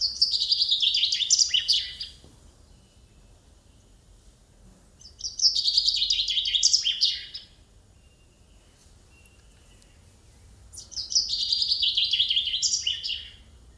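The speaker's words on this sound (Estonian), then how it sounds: "Metsvint." Chaffinch song in a forest: three separate bright, rapid descending trills ending in a flourish, each about two seconds long, spaced several seconds apart over quiet background.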